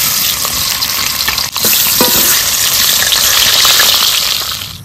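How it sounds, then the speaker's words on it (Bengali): A fish head fries in hot oil in a home kitchen, a loud, dense crackling sizzle that runs throughout with a brief dip and a few spatters partway through, no voices. "মাছের মাথাটা ভেজে নেব।"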